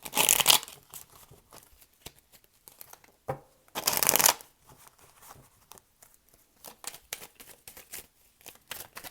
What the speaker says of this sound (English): We can shuffle these cards without them doing the weirdest stuff.